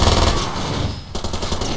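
Machine pistol fire in Far Cry 2, a loud, dense rapid burst of shots filling the whole short moment with only a brief dip before resuming.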